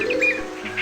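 Small birds chirping and tweeting in the Amazon rainforest of Brazil, a few light repeated calls close by over a steady background hum, with no talking.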